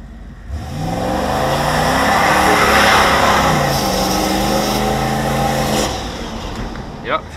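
A boosted 408 LS engine revs hard during a burnout, climbing and holding at high revs for several seconds, then dropping back near the end.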